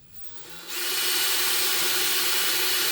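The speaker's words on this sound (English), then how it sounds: "let's see, get the drill." A power drill runs steadily while boring into the center console of an SRT4 car, a loud continuous whine that starts after a brief quiet moment and holds without pause.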